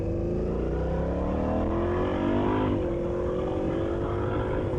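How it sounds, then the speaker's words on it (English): A Honda Africa Twin 1100 DCT motorcycle accelerates, its engine note climbing steadily through the rev range, dipping at an automatic gear change, then rising again, close and loud over wind noise. "just roll the throttle on and off you go"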